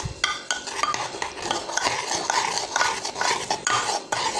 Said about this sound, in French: je remue bien le tout